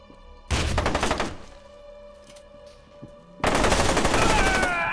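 Automatic weapon fire in the first-person shooter game F.E.A.R. 2, two loud sustained bursts of rapid machine-gun shots separated by a quieter lull with faint game sounds.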